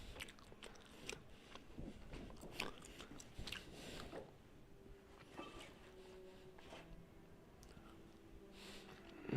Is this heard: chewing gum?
yes